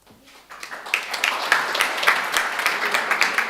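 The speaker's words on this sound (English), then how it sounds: "Big round of applause" Audience applause at a social networking debate as the jury members are introduced, rising after a quiet start into steady, moderately loud clapping with no speech over it.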